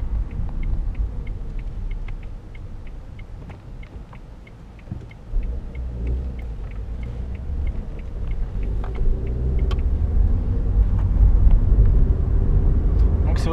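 A 2007 Renault Scenic 1.6 16V with six-speed gearbox cruises in sixth gear, its low engine and road rumble steady and building slightly louder toward the end, with faint ticking and bumps over it.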